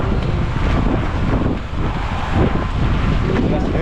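Strong wind buffets a microphone aboard a boat at sea, a loud, steady, rumbling roar with gusting swells and water noise beneath, no talk heard.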